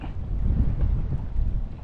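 Strong wind buffets the microphone aboard a small fishing boat out on the water, a steady, loud low rumble that gusts and swells throughout with no voices.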